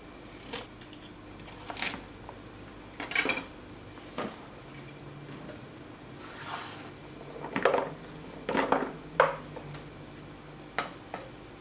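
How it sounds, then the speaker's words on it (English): A knife chops carrots on a board in scattered, uneven knocks and taps, some single and some in quick clusters, close and fairly quiet, with no talking. "Now we're going to cut the carrots."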